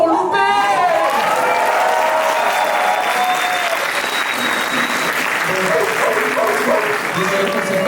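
An audience at an open-stage performance night applauds a performer, steady dense clapping with some cheering that fills the whole stretch at full loudness.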